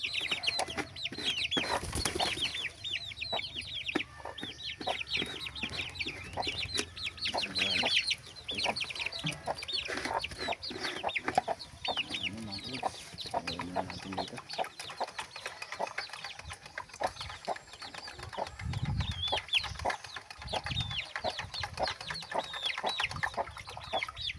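Chicks clucking steadily throughout, a busy flock close by with overlapping calls and some scratching noise.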